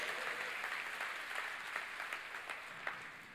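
Applause from a church congregation during a sermon, a steady dense patter of many hands clapping at moderate distance, continuous throughout with no talk over it.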